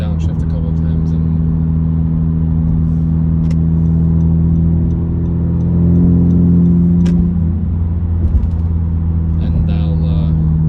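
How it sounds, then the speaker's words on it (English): A 2018 Honda Civic Sport with a 2-inch straight-pipe exhaust downshifts, its loud droning cabin engine tone swelling briefly as revs rise, then settling back to a steady rumble. "To slow down, I'll downshift a couple of times"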